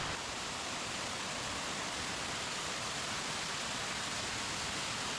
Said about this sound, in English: I'm hearing some waterfall